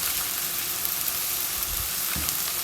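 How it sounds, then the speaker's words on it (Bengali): Chopped green and red peppers sizzle in a pan of chicken karahi, a steady, close, hissing fry with no talk. "এইখানে আমি দেব গ্রিন পেপার আর রেড পেপার কুচি করে, half green paper half red"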